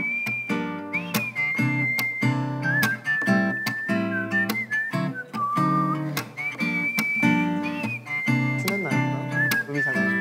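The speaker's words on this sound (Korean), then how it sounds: "휘파람 될까?" A person whistles a bright, lilting tune alone over a rhythmic backing track with plucked chords, the melody sustained and clear across the whole passage in a studio live session.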